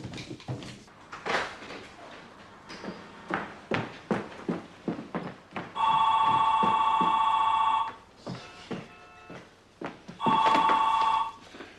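A telephone rings in two long electronic bursts, each about two seconds, loud and close. Before them come irregular knocks and footsteps-like thuds, with a quiet gap in between.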